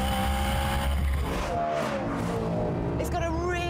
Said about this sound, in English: the back is stripped out so you can hear the exhaust a bit better